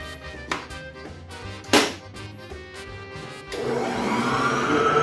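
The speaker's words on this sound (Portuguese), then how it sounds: "Só colocar na batedeira. E bater na velocidade máxima." Stand mixer whipping 250 ml of whipped cream at maximum speed for a Nutella and strawberry chantilly, starting with a few taps and clunks before settling into a steady, loud whirring drone for the last second and a half.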